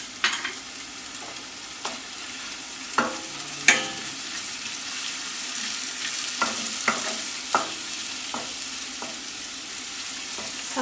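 Chickpeas with chili powder sauté in a pan, giving a continuous soft sizzle broken by irregular scrapes and taps of a spoon stirring, close and moderately loud with no talking.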